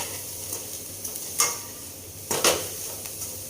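Fried onion with salt, chili and turmeric is stirred in a pan for poha, a soft sizzle with a few sharp scrapes and clinks of a spoon against the pan, faint and without talk.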